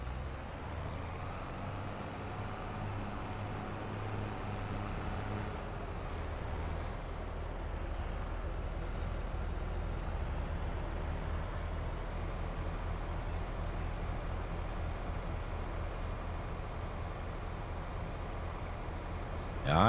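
Engine of a sugarcane harvester in Farming Simulator 22 on an alpine farm map, a steady low diesel drone and rumble running continuously throughout, with no talk over it.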